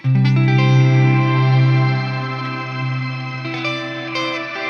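An electric guitar chord rings through a Strymon reverb pedal's shimmer setting, sustaining with a bright, pitch-shifted wash of overtones that swells and lingers near and loud, with no talking.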